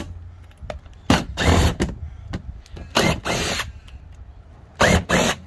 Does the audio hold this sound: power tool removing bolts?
yes